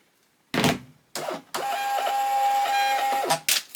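A Jadens thermal label printer runs a shipping label, starting with a few short mechanical clunks and then a sustained motorized whir with a steady tone before stopping, followed by two quick clicks, close and clear with no talking.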